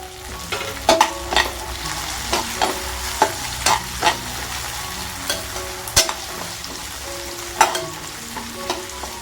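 Green peas and lentils frying in a pan while making Karnataka-style vangi bath, a soft steady sizzle with sharp, irregular scrapes and knocks of a stirring spoon, close up and without talk.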